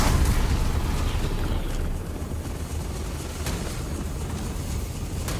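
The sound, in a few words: grenade explosion in the video game Starfield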